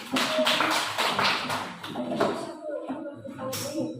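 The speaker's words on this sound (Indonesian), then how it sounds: "Tepuk tangan buat kelompok 1." A scattered round of hand clapping for a group presentation in a classroom rises and tapers off, with murmuring voices and shuffling in the room.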